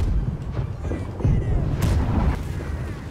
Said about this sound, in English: Left side cannons fire all.